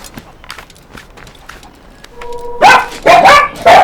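Pet dogs barking indoors, several sharp close barks in quick bursts after a few seconds of light tapping and rustling in the room.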